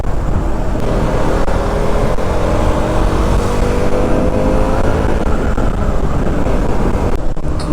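Heavy Bangalore road traffic in a jam, caught from a Yamaha RX100 motorcycle, makes a loud, steady, continuous roar of engines and road noise with no break.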